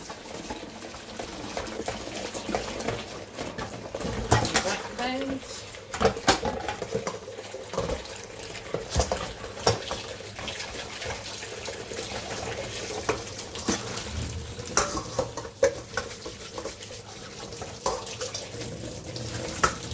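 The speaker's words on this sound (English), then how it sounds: "So I am going to quickly give this bowl a wash." A bowl is washed under a running kitchen tap, giving steady splashing water with clinks and knocks as the bowl is handled. The sound is close and continuous for the whole stretch, with no talking.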